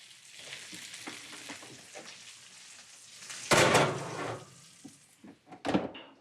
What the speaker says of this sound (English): So it's sizzling over here, sizzling over there, sizzling here, and all.